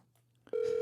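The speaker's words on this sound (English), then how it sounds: "It's ringing." A telephone ring-back tone on an outgoing call sounds as a single steady, loud electronic tone that starts abruptly after a soft click and holds to the end, with faint low hum before it.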